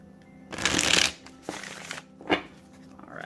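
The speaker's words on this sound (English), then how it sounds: "let's give it a good shuffle" A deck of Shadowscapes tarot cards is shuffled in two quick riffling bursts, followed by a brief tap of the cards settling, close and crisp in a quiet room.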